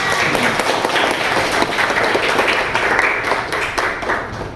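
A high school class in Indonesia claps for a student's answer, a loud, dense burst of many hands that stays steady and then fades slightly at the end.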